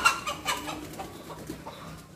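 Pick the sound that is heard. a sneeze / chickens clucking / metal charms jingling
chickens clucking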